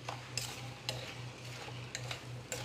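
Sugar being stirred in a pot over heat as it melts, a few close rhythmic scraping strokes of a spoon against the pot over a low steady hum, quiet and without speech.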